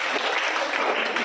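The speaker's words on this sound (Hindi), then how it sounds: "जोरदार तालियों के साथ एक बार" A short burst of dense applause from a crowd, steady and even throughout.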